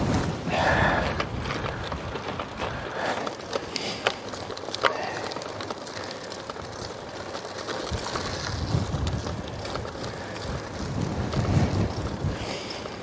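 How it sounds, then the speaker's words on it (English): Strong crosswind buffets a microphone outdoors in Spain, a steady roaring rumble with gusty swells throughout, no voice over it. "Getting assaulted by crosswind right now."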